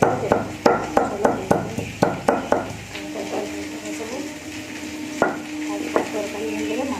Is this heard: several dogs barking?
no